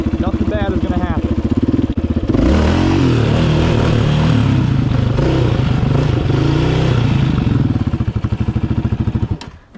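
A fuel-injected motorcycle in first gear on grass roars loudly and continuously, swelling into harder revving after about two seconds before the engine note drops away at the very end.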